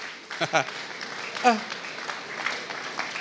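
A church congregation applauding and cheering, a brief light patter of clapping under a preacher speaking French.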